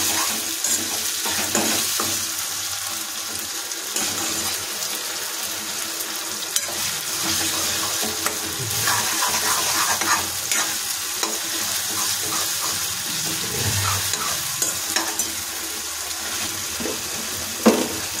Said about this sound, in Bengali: টমেটোটাকে 2 মিনিট 5 ধরে লো ফ্লেমে কষিয়ে নেব